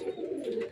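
A female domestic pigeon gives a short, soft, low coo, close and alone with no talk.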